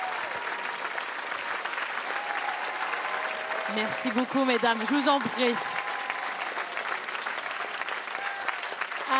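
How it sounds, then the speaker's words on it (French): Audience applause fills a French TV variety gala, steady and dense throughout while someone speaks over it near the middle and a man adds brief words. "Un maximum d'applaudissements pour Esmeralda et Fleur de Lys"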